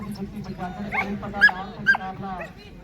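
A dog that has strayed into a racing tent gives soft yips and whimpers, close by, in short bursts over a steady low hum.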